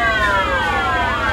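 Fire engine sirens wail loud and close as two trucks from a fire station arrive for a training drill at a countryside children's camp, overlapping tones sweeping up and down.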